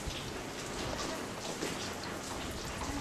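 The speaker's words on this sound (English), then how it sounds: "I'm out in the rain." Heavy rain pours down steadily, a dense, continuous hiss of drops drumming on surfaces with no pauses and no voices.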